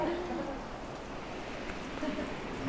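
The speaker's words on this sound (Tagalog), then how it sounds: "parang lalong lumalakas yung ulan" Heavy rain falls in a steady, dense hiss of drops, continuous and fairly faint throughout with no voices over it.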